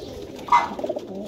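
A single pigeon gives a short, soft coo close by in a quiet loft.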